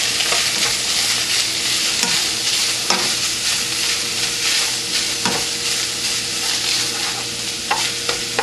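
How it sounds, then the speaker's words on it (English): Meat seasoned with Weber Chicago Steakhouse seasoning sizzles loudly and steadily in a pan while a spatula scrapes and stirs in repeated short strokes, close up and with no talking. "You're going to give that a quick stir"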